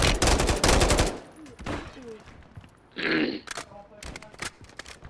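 Rapid bursts of gunfire from the video game Call of Duty, loud cracking volleys early on, then scattered shots and a muffled blast, mixed with players' voices talking.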